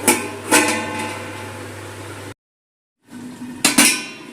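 A metal lid goes onto a cooking pot of raw boal fish curry with potatoes: a couple of clanks, a brief total silence, then two more sharp metallic clinks close by, with no talk.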